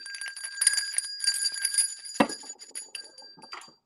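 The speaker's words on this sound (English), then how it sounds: "You got your bell, Joey?" A hand bell rings for a birthday toast, bright clustered jingling strikes that build and then trail off, fairly faint and close, with one sharper clink near the middle.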